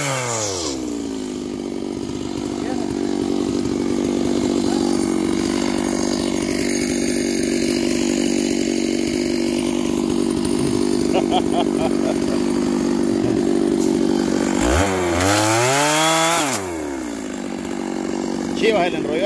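Stihl chainsaws sawing wood in the mountains of Olancho, Honduras, with a loud, steady engine drone running throughout and revving up sharply near the end.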